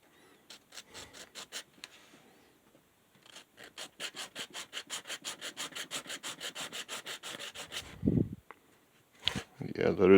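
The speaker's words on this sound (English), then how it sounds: "Guess it wouldn't hurt to sand it back a little bit." Sandpaper rubs back and forth over a curved wooden tri tail tuner that has some purple in it, in a long run of steady, evenly spaced strokes, close up, with brief louder noises near the end.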